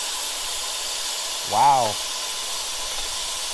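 Steam bursts from a rusted hole in an engine's thermostat in one short, loud hiss over a constant background hum, and a person speaks briefly.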